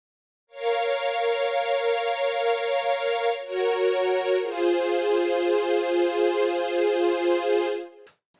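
A synthesized string pad from the Arturia SQ80 V's No More Strings preset holds smooth, sustained chords, shifting twice to new harmonies before fading out; nothing else is heard.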